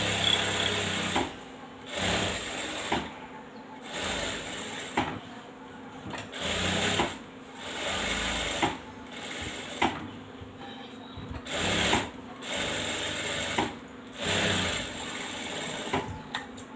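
A sewing machine stitches an embroidery blouse in long, big basting stitches, its steady mechanical whirr running in loud bursts separated by short regular pauses, close up with no talking.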